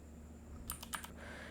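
Brief burst of keyboard typing as a search for an app is entered into a website builder's app market search box: a handful of quick, close key clicks in a short cluster, with no speech.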